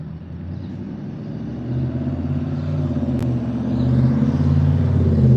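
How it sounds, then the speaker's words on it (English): A car rolls through an intersection, its engine rumble building steadily from moderate to louder as it approaches over several seconds, a low steady drone with no talk. "now there's a car coming too"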